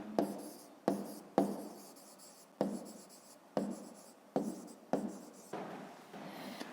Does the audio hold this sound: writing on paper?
yes